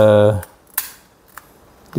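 A pistol-type gas lighter clicks at an Electrolux oven stove, a few sharp isolated snaps spaced apart after a brief burst of voice at the start, close and crisp.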